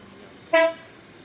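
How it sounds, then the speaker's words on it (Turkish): A single short, sharp honk of a car air horn sounds once against quiet background noise at an outdoor car market. "havalı korna."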